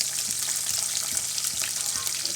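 Garlic, green chillies and curry leaves sizzle steadily in hot oil in a pan for an onion pulusu, a dense continuous crackling fry heard up close with no voices.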